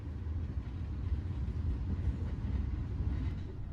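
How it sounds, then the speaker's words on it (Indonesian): From inside a moving train, the Gunung Jati train from Cirebon to Gambir rushes past, heard as a low, heavy rail rumble that stays fairly faint and continuous throughout. "Kita berpapasan dengan kereta api Gunung Jati dari Cirebon tujuan Gambir ya"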